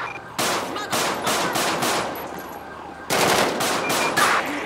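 Rapid automatic gunfire in Grand Theft Auto with the LSPDFR police mod, in two long sustained bursts separated by a brief gap. The shots are loud and close, and no voices are heard.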